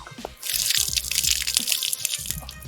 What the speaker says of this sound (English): the water from the tank first goes through this filter, filters whatever is coming out before passing into the system